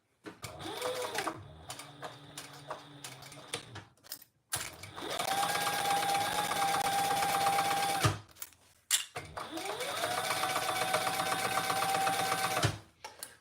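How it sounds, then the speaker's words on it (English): A sewing machine stitches a seam in three runs, each a rapid, steady mechanical whir with brief pauses between and faint handling sounds in the gaps. "And sew that with the seam allowance in the pattern."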